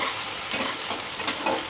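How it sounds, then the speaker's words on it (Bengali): Chopped onion fries in hot oil with a moderate, even sizzle, broken by a few soft stirring scrapes, and no one speaks. "পেঁয়াজ ভাজা হচ্ছে"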